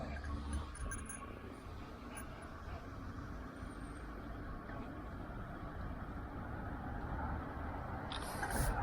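A car on a rural road near a slough gives off a low, steady rumble of road noise that swells slightly toward the end as it draws closer, heard faintly and without talk.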